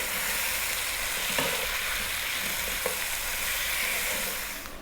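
Tomatoes cooking down in a pan on steady heat give a dense, even sizzle throughout, with a couple of faint clicks from the pan or utensil and a slight fade at the end.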